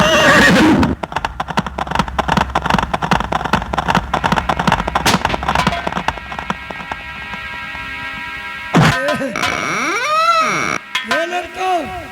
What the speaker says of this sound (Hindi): वो घोड़े की आवाज आ रही है।